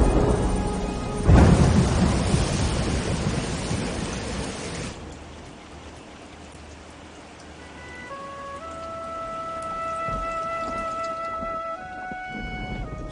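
A heavy thunderstorm in a dramatic film scene, with dense loud rain and a rumbling burst of thunder early on that fades into steady rainfall, while a sustained musical tone rises over the later part.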